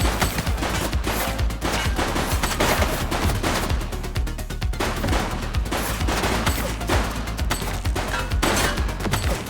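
A sustained video-game shootout in a police-themed open-world game, with dense, loud, rapid gunfire rattling continuously for nearly ten seconds and no one talking.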